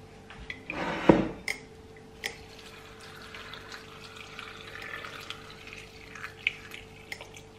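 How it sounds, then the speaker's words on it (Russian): Water is poured into a pot over chicken in a home kitchen, a brief splashing pour near the start that settles into faint trickles and drips, with a low appliance hum underneath. "Заливаю немного водой."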